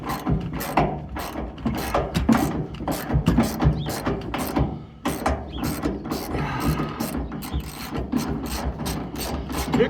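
A hand ratchet undoing a bolt on a 1972 Chevrolet C10 pickup, clicking in quick, uneven bursts of close, loud pawl ticks that pause briefly midway, then resume at a steady working rhythm.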